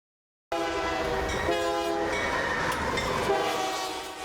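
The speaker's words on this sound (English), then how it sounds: "Denton police officer Gary Craig, spending his morning on board a freight train." A freight train rumbles past with a loud, sustained horn blast held for several seconds, multiple harmonic tones over a steady rail roar, close and alone without any talk.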